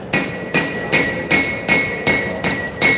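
Flat side of a hammer striking a hot knife blade during a live forging demonstration at a knife show: seven sharp, evenly spaced metallic blows with a ringing tone, close and loud, no talking.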